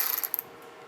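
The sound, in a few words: 19mm socket removing bolts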